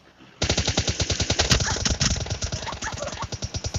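Rapid automatic gunfire from the video game PUBG Lite, sustained bursts of loud, close shots firing in a steady rattling rhythm with no talk over them.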